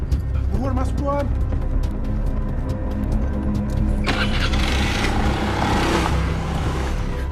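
A motorcycle engine starts up with a cranking catch, then settles into a running mid-pitched engine sound that grows louder and rougher partway through, with voices nearby.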